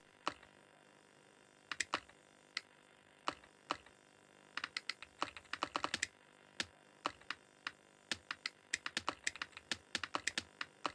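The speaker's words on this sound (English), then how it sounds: "I'm just typing." A computer keyboard is typed on in irregular bursts of sharp, close key clicks, with short pauses between flurries and no voices.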